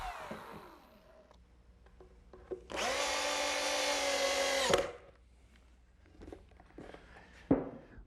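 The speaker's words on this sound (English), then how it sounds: "those get attached with some more drywall screws" A power drill drives drywall screws into the legs of a sawhorse, one sustained whirring burst of about two seconds, loud and close, with quieter workshop knocks and shuffling footsteps before and after.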